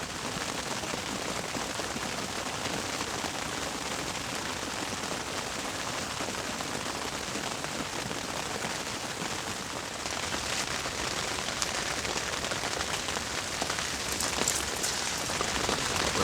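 Steady rain falls on a cold, changeable morning of hail and snow, a dense, even hiss of drops striking surfaces that holds at one loudness throughout, with no voices.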